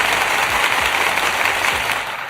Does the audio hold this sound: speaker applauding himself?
yes